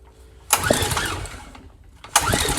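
A Karcher pressure washer's engine on full choke sputters to life in a loud burst, runs roughly, then fades as it chokes down, followed by a second abrupt start attempt near the end.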